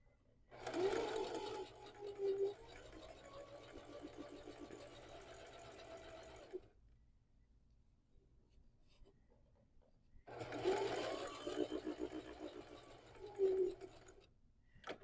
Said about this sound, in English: sewing half a pumpkin right now